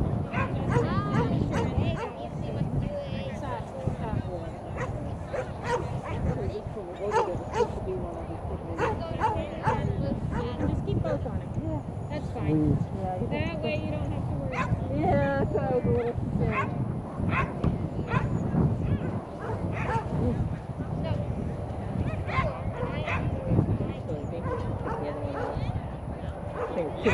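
Ibizan hounds at a lure coursing event bark, yip and whine excitedly at close range, with overlapping yelps throughout and people talking among the dogs.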